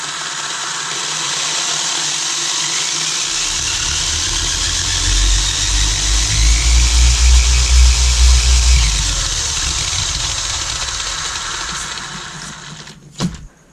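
An electric Tamiya TA-02 radio-controlled car with a 17.5 motor, high-speed gear set and big tires whines steadily, then swells into a louder, fluttering whir midway before easing off, ending with a brief knock.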